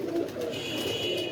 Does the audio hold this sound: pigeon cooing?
yes